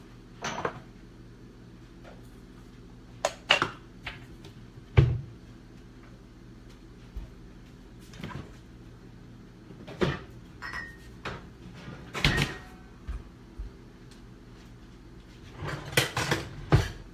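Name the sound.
cleaning up the kitchen, cupboards and dishes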